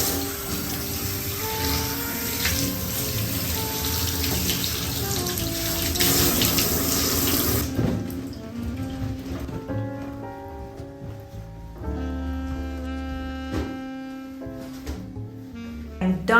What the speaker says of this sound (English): I'm done rinsing out the conditioner in my hair